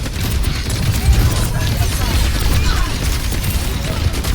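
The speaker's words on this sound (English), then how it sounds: "Huge nade." A grenade blast in Overwatch amid dense gunfire, a loud continuous barrage of shots and crashes with no single clear boom, with a voice talking over it.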